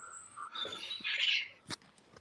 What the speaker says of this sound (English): Yeah, we've got birds here.